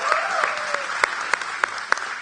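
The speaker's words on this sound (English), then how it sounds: "Give them a round of applause" Audience applause at a product pitch night, continuous clapping from a crowd with sharp individual claps standing out, lasting the whole moment.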